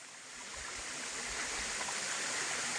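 A waterfall and stream rush in a continuous broadband roar, steady and fairly close, with no other sounds standing out.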